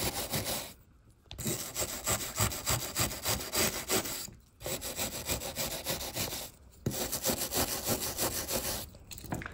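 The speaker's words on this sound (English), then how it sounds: "that's what happens when I sand it" Hand sanding on an antique Eastlake wooden entry door during restoration, steady rasping back-and-forth strokes in close, moderate runs broken by short pauses.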